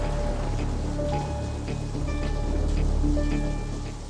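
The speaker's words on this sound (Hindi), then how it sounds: "ऐसी ही बारिश हो रही थी।" Steady rain falling outdoors, a continuous hiss of drops at moderate loudness with faint scattered tones and background noise mixed in.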